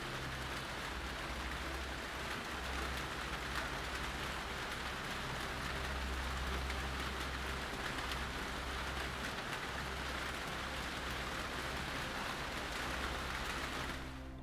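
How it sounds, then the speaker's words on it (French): Rain falls in a steady, dense hiss of drops with an even, moderate loudness that holds throughout, with no voices heard. "ressentez l'agitation de la pluie"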